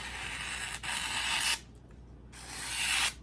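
Two long, smooth push-cut strokes of an Enso SG2 kiritsuke knife through food, a soft steady rasp up close, with a brief pause between them.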